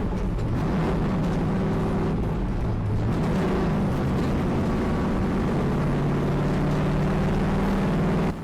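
A NASCAR stock car's V8 engine roars steadily at high revs on the Daytona track, a loud, sustained drone with shifting pitch held for several seconds without pause.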